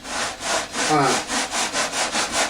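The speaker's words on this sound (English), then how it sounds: "these T-bar sanders are really great" A straight T-bar sander is rubbed back and forth over a covered RC model plane surface, giving about nine even rasping strokes in steady rhythm, close and fairly loud, with no talk.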